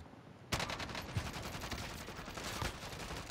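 Gunfire in Call of Duty: Modern Warfare breaks out suddenly after a short quiet moment, then continues as loud, rapid, sustained automatic shots with dense, rattling bursts and no talk.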